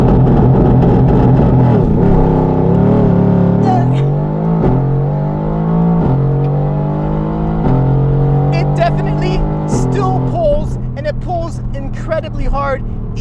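A Mercedes-AMG GT R launches hard, its engine note sweeping up sharply through several gears with quick drops at each shift, loud and close, then easing off near the end.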